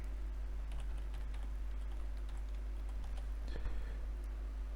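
Password typed on a computer keyboard: a quiet, steady patter of small key clicks over a low constant hum, with no voices.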